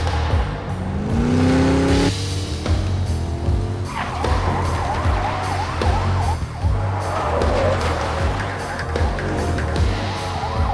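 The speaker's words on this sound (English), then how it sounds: "Just follow the sirens." Police car sirens wail over roaring car engines during a freeway chase in the Enter the Matrix video game, with rising and falling siren tones throughout and a steady, loud engine rumble underneath.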